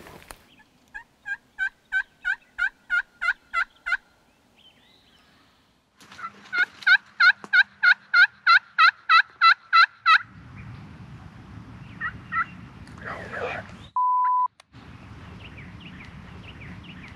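Wild turkey gobblers calling during a spring hunt in Kentucky, two bursts of rapid, loud, rolling gobbles close by, followed by a quieter stretch with low wind rumble and faint distant calls.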